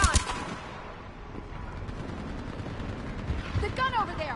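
A mounted gun in Mass Effect 3 fires in clustered, sharp bursts amid battle noise, loud at the start and again toward the end, while a voice talks briefly.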